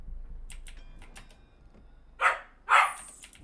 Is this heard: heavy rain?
no